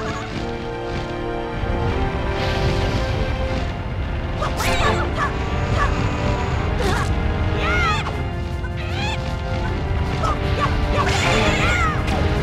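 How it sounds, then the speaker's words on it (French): A bird calls in The Legend of Zelda: The Wind Waker on Wii U, short bright chirps over a busy game soundscape with music, thumps and crashes around them. "C'est quoi ce bruit de chèvre? Ça, c'est pas une chèvre, c'est un oiseau."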